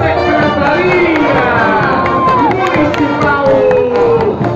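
A large crowd at the 7 de Setembro civic parade in João Pessoa, Brazil, claps and cheers in a steady, dense roar, with voices and a loudspeaker-style call mixed in throughout.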